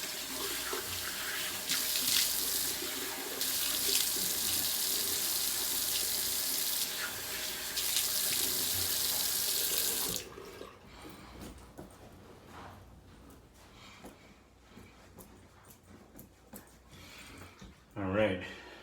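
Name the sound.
water running from a tap while rinsing a razor after shaving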